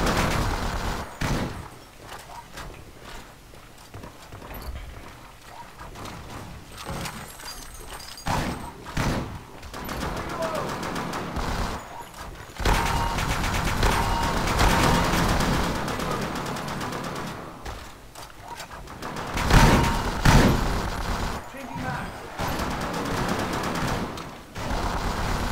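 Repeated gunfire bursts and weapon shots in a zombie-shooter game fill the scene, with dense rapid firing and impacts that swell and fade throughout, a fairly busy, loud battle mix.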